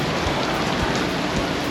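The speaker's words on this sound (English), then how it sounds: "It's pouring on us now." Heavy summer rain pours down outdoors in Sydney, a dense, steady roar of drops hitting nearby surfaces, loud and close with no voices.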